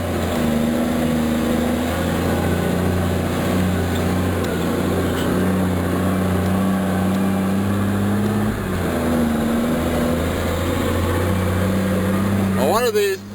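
A Cat 730 articulated rock truck with a six-speed automatic transmission runs steadily nearby, its diesel engine holding a loud, even drone with a brief dip partway through.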